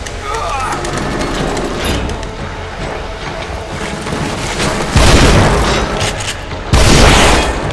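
Loud gunshots and heavy booms from The Evil Within echo through a tense horror-game fight, with two especially powerful blasts standing out among ongoing rumbling action.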